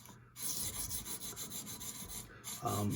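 Knife steel, S110V PM2, being sharpened on CBN resin bonded stones, giving soft, close rasping strokes in an even back-and-forth rhythm with brief pauses between passes.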